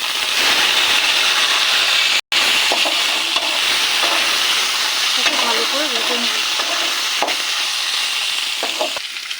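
Banana and banana peel sizzle and fry steadily in a hot pan with garlic and green chilli, a continuous close crackle with occasional stirring scrapes and a brief dropout partway through.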